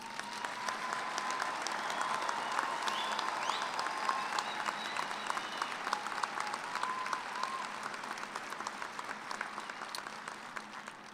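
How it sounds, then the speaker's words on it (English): Sustained applause from an audience at a fall Kansas university commencement ceremony for agriculture and business administration graduates, dense clapping from a large crowd that holds steady, then gradually thins toward the end. "You can go ahead and clap for them if you'd like."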